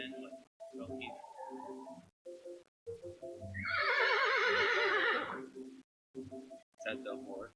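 A horse whinnies in one long, wavering, high-pitched call lasting under two seconds, clear and fairly loud, with a person speaking just before and after.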